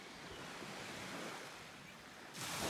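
Lake Superior waves wash onto a sandy beach in a steady, broad rush with some wind across the microphone, swelling louder near the end as a wave breaks close by.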